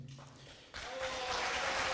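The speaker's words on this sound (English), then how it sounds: "No applause, please." Applause at a college board of trustees meeting, starting faint and distant, then swelling abruptly into a broad, steady clapping from the room that continues for the rest of the moment, with a faint voice at the start.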